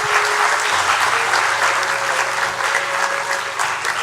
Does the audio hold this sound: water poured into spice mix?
no